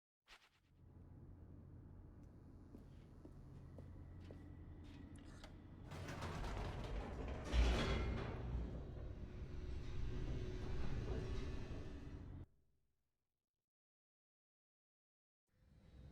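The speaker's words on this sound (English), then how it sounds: "The elevator raced downward" An elevator in The Stanley Parable plunges downward, its low mechanical rumble and creaking swelling midway, running steadily for several seconds, then cutting off abruptly into silence.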